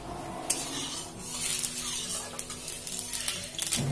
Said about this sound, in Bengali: মাছগুলো আমি ভাজবো, তার জন্য আমি কড়াইতে সরষের তেল দিয়ে দিচ্ছি।